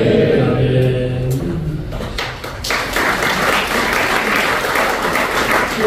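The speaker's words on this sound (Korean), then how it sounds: "뜨겁게 박수 부탁드리겠습니다" Warm applause from a church congregation at a Korean holiness church general assembly's early-morning worship in a Waikiki resort hotel, building from scattered claps into dense, steady clapping that fills the room for several seconds.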